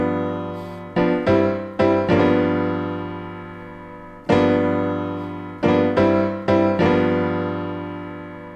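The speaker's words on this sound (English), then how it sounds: "listen to me play example 6 now with that bent note" Beginner gospel piano phrase using a quick bent grace note into chords, a run of rhythmic chord strikes with sustained ringing decays and a brief pause midway, played close and solo without talk.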